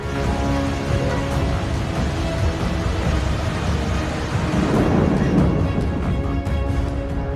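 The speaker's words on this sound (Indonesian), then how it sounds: "memperlihatkan hujan badai tersebut menerjang dengan sangat kencang" Heavy rainstorm with strong wind lashing a residential area in Teluk Jambe, Karawang, Indonesia: a dense, loud, steady roar of rain and wind throughout, with a deeper rumbling swell midway that may be thunder.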